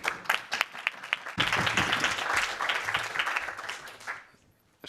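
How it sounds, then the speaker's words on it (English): An audience at the DPP4EU conference bursts into applause after a talk, dense clapping swelling from a few scattered claps into steady sustained applause for a few seconds, then tapering off. "Special applause for being in time."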